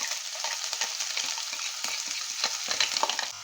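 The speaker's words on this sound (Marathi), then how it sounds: "एकदम बारीक गॅसवरती आपल्याला कांदा छान असा परतून घ्यायचा आहे" Chopped onions sautéing over very low heat in a pan with whole spices, a steady close crackling sizzle with small pops and stirring scrapes throughout, no talk.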